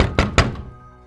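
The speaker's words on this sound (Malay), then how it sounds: "Ada satu hari tu pintu dia diketuk." Two firm knocks on a door, close and loud, landing about a fifth of a second apart, followed by a short, fainter third tap and a quick fade.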